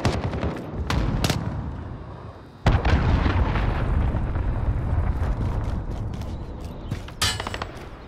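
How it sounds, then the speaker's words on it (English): A cruise missile strike in Call of Duty: Modern Warfare sets off loud, sustained explosive rumbling, with a sudden fresh blast partway through and crackling bursts layered over the continuous roar. "Allied cruise missile away."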